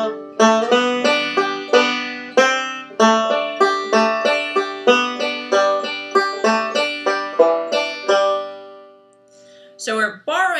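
Solo instrument playing the final phrase of a melody, clean plucked notes in a steady lilting rhythm, close and clear, followed by a short stretch of speech at the end.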